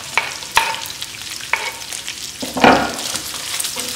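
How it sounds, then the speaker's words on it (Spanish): Onion and garlic fry in a pan, giving a soft background sizzle broken by a few sharp clinks and scrapes of stirring, with one louder rustling stir near the end. "vamos a esperar a que se acitrone un poquito la cebolla"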